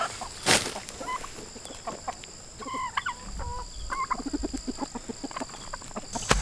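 Several chickens cluck and murmur in short, scattered calls, fairly close, with a sharp squawk near the start and a steady outdoor hum underneath.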